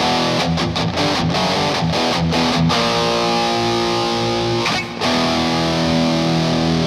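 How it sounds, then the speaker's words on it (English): Old-school rock style guitar distortion, a loud, sustained, thick tone with several choppy stabs early on, then a held chord that briefly cuts out near the end. "I like this distortion. It's very ancient, kind of like old school rock kind of distortion."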